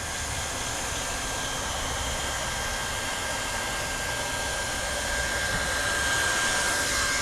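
A hot air welding gun runs on a TPO roofing patch, a loud steady blowing hiss that holds constant throughout and swells slightly near the end, with no talking.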